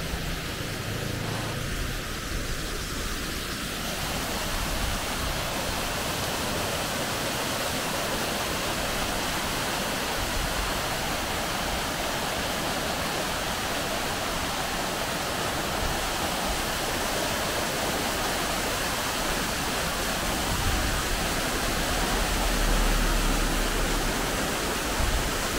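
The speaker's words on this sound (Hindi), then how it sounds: "हमारे सफ़र का पहला झरना आबशार" A waterfall at Banjosa in Azad Kashmir roars as a steady, dense broadband rush of falling water, loud and unbroken for the whole stretch, with no voices over it.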